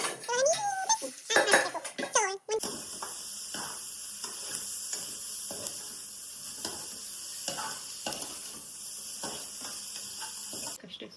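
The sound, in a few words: ground spice mix frying in pan for mutton sambar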